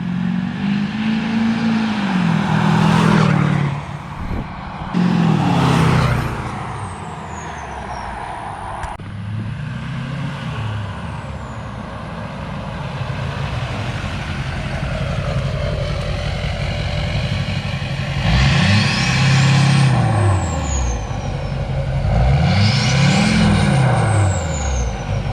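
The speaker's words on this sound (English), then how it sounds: "I'm having Drew drive my truck just because I want to get some better exhaust clips from the outside" An LLY Duramax diesel truck passes by outside on a straight road more than once, its deep exhaust rumble rising and falling with a clear Doppler sweep on each loud pass.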